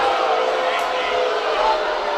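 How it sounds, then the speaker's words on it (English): A high school football crowd at Tumwater versus Shelton lets out a loud, sustained groan and jeers after a penalty call, a broad wash of many voices filling the stands throughout. "Crowd does not like it at all"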